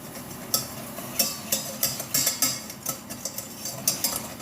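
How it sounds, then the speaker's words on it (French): Flour stirred into melted butter for a roux gives quiet, repeated scraping taps of a utensil against the pan in an uneven rhythm, close but soft. "Je saupoudre ma farine sur mon beurre. Je fais mon roux."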